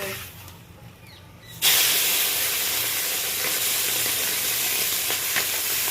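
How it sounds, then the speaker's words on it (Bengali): Small live mourola fish dropped into smoking-hot oil in a wok, a quiet hiss suddenly bursting into a loud, steady close sizzle and spatter that carries on to the end. "তারপর আমি মাছগুলো অল্প অল্প করে পুরো ভেজে নেব।"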